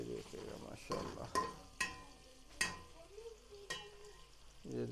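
Onions fry to half golden in a pan for chicken pulao with a quiet, close sizzle, broken by several sharp spoon scrapes and knocks against the pan as they are stirred.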